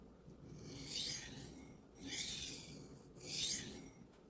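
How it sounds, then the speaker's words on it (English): Steel knife edge of Zmaxx PM being sharpened on a stone, three slow rasping strokes that swell and fade in turn, fairly soft and close, with no talking. "let's just sharpen this up and see if we can get a good edge off of it"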